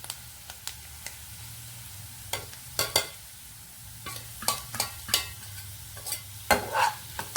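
Spatula scraping and stirring a snake gourd fry in a pan with chili powder made from carum seeds, coriander and cumin, a steady run of repeated scrapes over a low sizzle, close and moderately loud.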